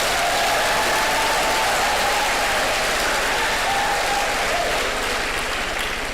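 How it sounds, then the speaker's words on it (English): A lecture audience breaks into sustained applause, a thick unbroken roar of many hands clapping at a steady loud level, easing off slightly near the end, with faint voices mixed in. "Please, another round of applause"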